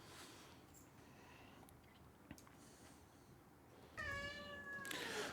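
A cat meows a few times near the end, clear tonal cries rising over a quiet room after a stretch of faint rustling and a single soft knock.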